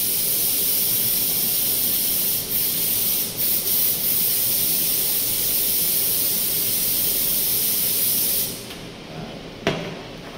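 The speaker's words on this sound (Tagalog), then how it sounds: "Tapos ay spray tayo ng air freshener." Air freshener sprays in a long, steady hiss that runs continuously for several seconds, loud and close, then cuts off, followed by a brief click.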